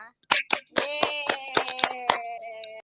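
A group of children claps hands together in a classroom, with a string of sharp rhythmic claps and a couple of brief voices cheering alongside.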